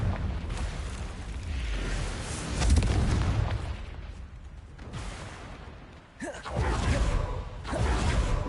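Confringo fire spells explode in the video game Hogwarts Legacy, rumbling booms and fiery whooshes arriving in repeated waves, loud and close, with a brief voice murmur mixed in.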